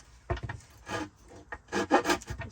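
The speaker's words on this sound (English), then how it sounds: "Now I'm gonna just file down this corner to an angle" A rasp files down a wooden corner in short rough strokes, a few gritty rubbing passes with brief gaps between them, close and moderately loud.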